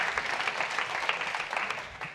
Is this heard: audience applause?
yes